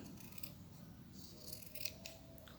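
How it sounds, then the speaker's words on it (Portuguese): Scissors snip through felt while cutting out Christmas pennant pieces, a steady close crisp rasp running the whole stretch with a sharper snip near the end. "com essa tesoura aqui"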